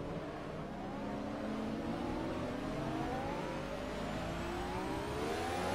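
A race car engine with a turbo screams in the Project CARS racing game, its pitch climbing steadily as it accelerates, loud and continuous with no talking.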